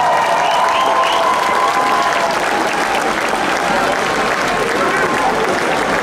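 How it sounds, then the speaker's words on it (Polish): Loud, sustained applause from a large crowd after a folk band's concert performance fills the whole stretch, dense and continuous. "jeszcze raz oklaski"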